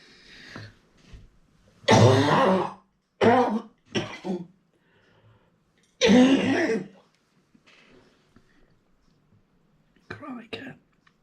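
A person coughs several times in separate bursts, close up, with quiet pauses and throat clearing between the fits.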